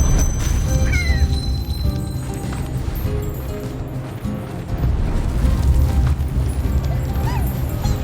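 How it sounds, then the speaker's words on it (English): A cat meows amid a busy, loud game soundscape with clattering and thumping effects, its calls partly buried in the mix. "it's a guardian cat"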